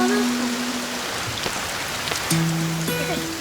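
Rain falls in a steady, hissing patter, with sustained tonal notes sounding over it and no voices.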